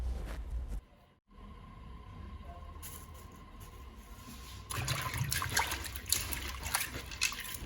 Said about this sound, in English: I'm gonna head to pour out or pour in water actually to properly and thoroughly clean it